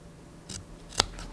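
Scissors snip through a sewn seam allowance, clipping notches into inner curves close to the stitching line; two or three crisp, close cuts stand alone in a quiet room, the middle one loudest.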